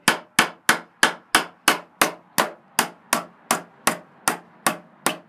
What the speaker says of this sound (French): On ne peut pas commencer un clou sans plier